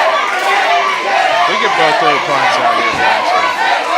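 A loud wrestling arena crowd roars and shouts continuously for a mid-Atlantic independent match, the dense cheering running under a commentator's voice throughout.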